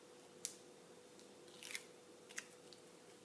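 Scissors trim a paper craft embellishment for a watercoloured paisley card, giving a few faint, sharp, sparse snips over a low steady hum, with no voices.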